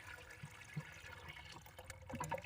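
Liquid splashes and gurgles steadily into a drum, with bubbling and dripping sounds growing busier toward the end.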